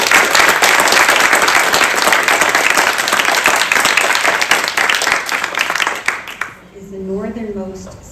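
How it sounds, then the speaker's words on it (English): Loud, dense applause from the audience at a park design meeting runs for about six seconds, then fades and gives way to a single voice speaking. "A round of applause for"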